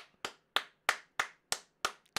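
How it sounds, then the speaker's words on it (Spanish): Seven crisp, evenly spaced hand claps ring out at a brisk steady pace, sharp and fairly close, like a single person or small group applauding, with no talk. "Un aplauso para este chaval que acaba de hacer historia."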